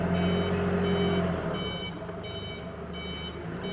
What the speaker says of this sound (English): Nice backup alarm too, so that everybody know that you are backing up